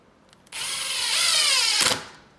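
A power drill or driver runs steadily for about one and a half seconds, driving small screws while an exterior door knob is installed, its whine rising in pitch and then stopping.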